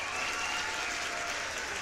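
Crowd cheering and clapping triggered by the cheer button in an eco city builder game, a dense steady burst of applause under two seconds long, fairly loud and even throughout.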